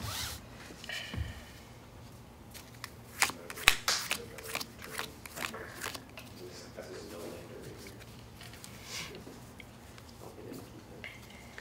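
Magic cards being shuffled and cut at a Friday Night Magic tournament table, a few quick riffling flurries and soft card slaps, close and moderately loud, with people talking quietly nearby.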